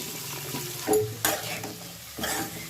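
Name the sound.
marinated paneer gravy mix frying in oil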